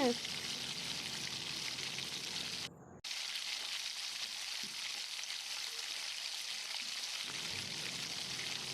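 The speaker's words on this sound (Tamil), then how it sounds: "இப்போ ஒரு பாலாக எடுத்து உள்ளே போட்டு எண்ணெயிலே குளிப்பாட்டி எடுத்துருவோம். பார்த்தீங்களா எப்படி பபிள்ஸ் வருதுன்னு?" Potato cheese balls deep-frying in a miniature pan of oil, giving a steady, close, hissing sizzle with a brief dropout partway through.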